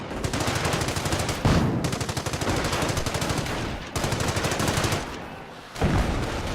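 A machine gun firing in the Company of Heroes video game: long, loud, rapid bursts of rhythmic shots with short breaks between them and no talk over it.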